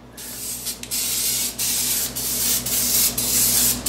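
Several bursts of cooking spray hiss into a crock pot, one after another with brief gaps, close by over a low steady hum.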